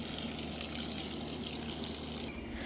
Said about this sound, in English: Now that I've got the hose out, it makes me want to get out here and water things.